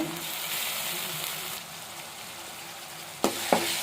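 Masala frying in a hot pan with oil, a steady broadband sizzle that runs throughout, then two sharp scraping clacks near the end as it is stirred.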